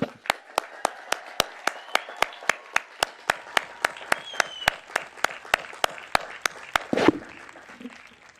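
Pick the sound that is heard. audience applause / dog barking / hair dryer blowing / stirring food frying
audience applause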